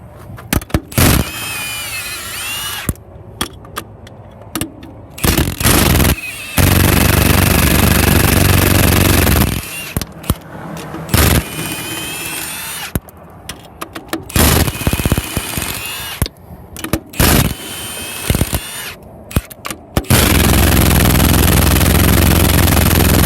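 Milwaukee impact wrench with a 13/16 socket taking lug nuts off a trailer wheel after a tire blowout, loud rattling hammering bursts repeated many times, with pauses and clatter between runs.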